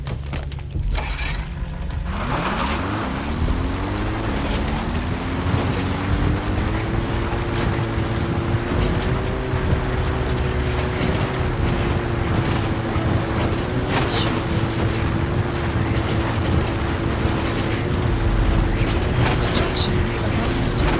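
Support helicopter arriving in the video game Metal Gear Solid V: The Phantom Pain, a loud steady rotor and engine drone whose whine rises in pitch and then holds throughout.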